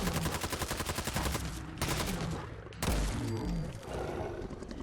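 A New Vegas light machine gun with a fully upgraded receiver and a 90-round drum magazine, modded into Fallout 4, fires long loud automatic bursts of rapid regular shots, broken by brief pauses, with no talk.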